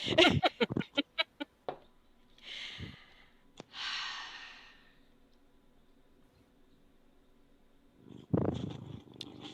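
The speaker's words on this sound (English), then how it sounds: "Loud purring." A cat purrs loudly and close up in a burst of rapid pulses, then breathy sighing rumbles follow and a louder rustling purr returns near the end.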